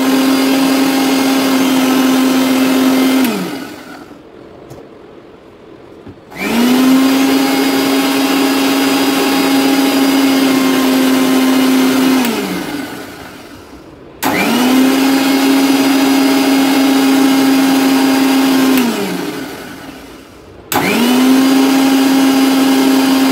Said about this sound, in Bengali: এবার আমি ব্লেন্ড করব।